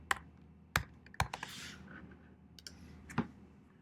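Typing on a computer keyboard: a handful of sharp, quiet key clicks spaced irregularly over a few seconds in a quiet room, with no talk.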